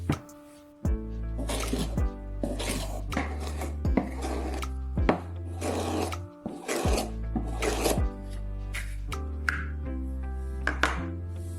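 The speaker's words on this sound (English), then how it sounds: "Now hold onto the tube from above while sharpening on a stone." A knife blade is drawn repeatedly across a sharpening stone, with a protective tube held over it, producing about nine rhythmic, gritty rasping strokes over a faint steady hum.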